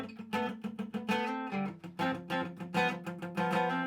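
A carbon fiber electric guitar with built-in speaker, set to a clean acoustic tone, plays a bright, strummed chord pattern with ringing notes, steady and close, no voices present.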